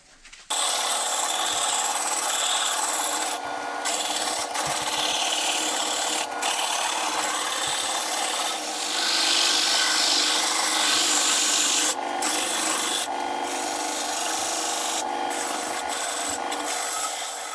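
A wooden closet dowel rod spins on a lathe against very coarse 24-grit sandpaper, producing a continuous loud abrasive rasping hiss with a few short breaks, close and unaccompanied by speech.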